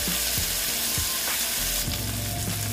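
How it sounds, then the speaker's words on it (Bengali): Mourola fish frying in a pan, with a loud, continuous close-up sizzle throughout and a few soft thumps and scrapes as the pieces are moved or stirred. "দিয়ে এখন ভাজা হতে দিচ্ছি। ভালো মতন ভেজে নেবো"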